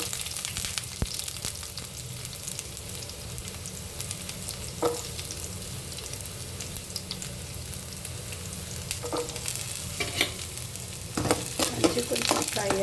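Onions fry in hot oil with cumin seeds and curry leaves, a steady close sizzle that holds throughout, with occasional light stirring clinks from the pan.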